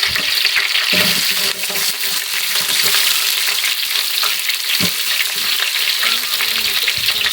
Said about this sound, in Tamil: வெங்காயம் போட்டு தாளிச்சிட்டு அரிசியை போட்டால் வாசனையாக இருக்கும்